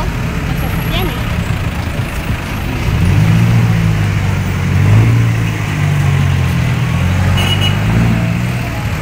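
Steady engine rumble from road traffic, with vehicles idling and passing close by and the drone swelling and easing over several seconds, while voices chatter underneath.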